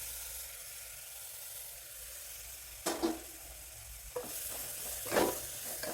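Marinated brinjal pieces sauté in a pan with a soft, steady sizzle, broken by a few louder scrapes and clatters as they are stirred.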